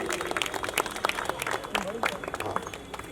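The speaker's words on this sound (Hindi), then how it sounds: "जलील साहब के लिए ताली होनी चाहिए" Applause from a seminar audience in a hall as a guest is called on stage, scattered claps forming a dense, moderately loud patter throughout with a host's voice talking over it.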